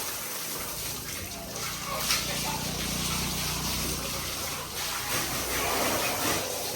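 Water gushes steadily over a racing bull named Kartik as it is washed for bullock cart racing, a close, continuous splashing pour without pause.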